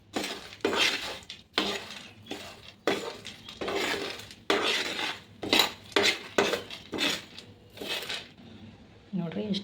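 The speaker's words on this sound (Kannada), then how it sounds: "ಇವಾಗ ಮತ್ತು ಲೈಟಾಗಿ ಹುರಿಯೋಣ್ರಿ ಅದು." Cumin and roasted gram being lightly fried in a little oil for hurigadale chutney give repeated dry scraping and stirring bursts against the pan, with a voice talking throughout.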